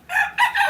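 A rooster gives a short, close, loud burst of crowing and clucking, three quick strained calls in under a second.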